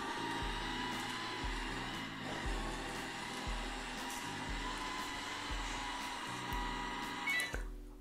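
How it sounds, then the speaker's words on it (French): Ultenic D5S vacuum cleaner running indoors, a steady close motor whine with a faint rhythmic bumping pulse as it is pushed back and forth across the floor, with no talking. "je crois qu'on va être obligé d'utiliser le nouvel aspirateur"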